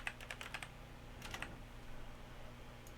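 Typing on a computer keyboard into a word processor: two quick bursts of light clicking keystrokes, close and fairly quiet, then near silence.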